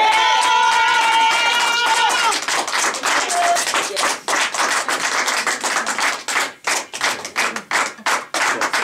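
A church congregation applauding together, dense close clapping with a brief vocal exclamation over the first seconds, then rhythmic steady clapping that thins toward the end.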